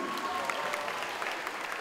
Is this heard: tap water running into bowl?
no